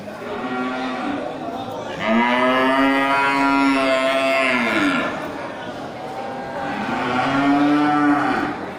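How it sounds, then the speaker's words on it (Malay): Aceh cattle moo loudly and close by, two long drawn-out lows separated by a short pause, over faint background noise. "Ya, ini dari jenis sapi Aceh."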